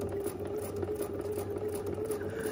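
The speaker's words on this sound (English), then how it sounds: "And I'm gonna backstitch because we don't want these coming apart on us" Home sewing machine backstitching a seam on a bag during a sewing project, a steady mechanical whirring hum with a faint rhythmic patter from the needle, running continuously at moderate level with no talking.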